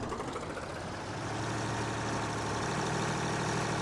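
Steady low rumble of a truck engine driving in Farming Simulator 19, a constant droning hum that holds even and loud throughout with no voices.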